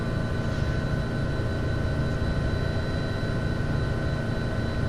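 Steady, dense rotor and engine drone of a helicopter hovering in Flight Simulator X, continuous and unchanging with no voices.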